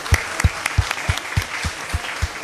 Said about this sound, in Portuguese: Podem aplaudir a diretora também.